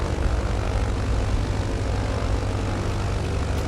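A propeller airplane takes off from the runway beside Maho Beach, its loud, steady engine roar filling the air close by and covering everything else, with no voices.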